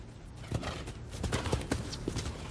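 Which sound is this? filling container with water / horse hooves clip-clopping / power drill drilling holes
horse hooves clip-clopping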